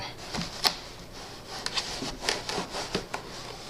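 A fabric liner is slid into a Victory motorcycle saddlebag, heard as close, quiet rubbing and shuffling with a few soft knocks and scrapes scattered irregularly over a few seconds.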